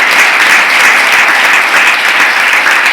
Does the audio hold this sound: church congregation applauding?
yes